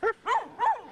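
A dog barks three quick, high yips in close succession, loud and near, with no talk.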